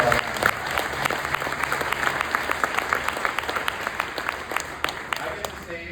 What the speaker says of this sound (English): So big round of applause for all.